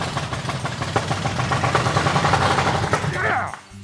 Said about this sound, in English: That is an engine that hasn't ran for 50 years, folks.